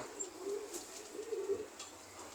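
Pigeons give soft, low cooing in a pigeon loft in Khulna, with a couple of rolling coos over faint background hiss and no talking.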